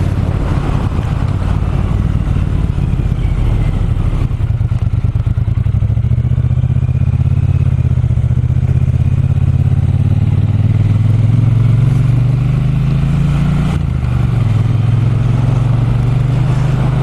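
A Triumph T120 Bonneville motorcycle being ridden, its engine a steady loud low rumble that rises in pitch as it pulls, with a brief dip near the end, running continuously under wind noise and no talk.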